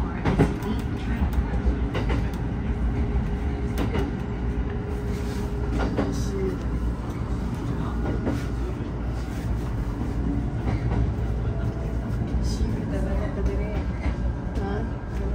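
Local train running near Nishi-Ueda station in Japan, a steady close rumble of the carriage with light rattles and track clicks, continuous throughout, with faint voices and an announcement tone under it.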